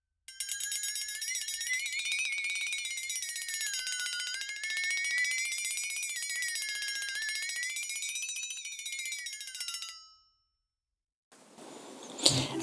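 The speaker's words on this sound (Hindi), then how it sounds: "उसने फरियादी घंटी बजा दी" A petition bell rings continuously with a wavering, shrill tone for about ten seconds, then cuts off; a short burst of noise follows after a pause.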